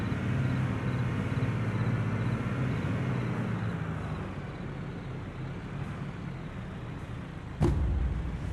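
A construction vehicle in Construction Simulator 3 driving to a parking area, giving a steady low engine drone that eases slightly, with a sharp hiss or clunk near the end.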